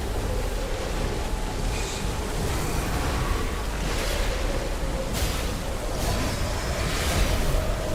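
Ocean waves roll and wash in the dark fantasy game Mortal Shell, a steady, fairly loud surf hiss with windy texture and occasional stronger swells, with no voices.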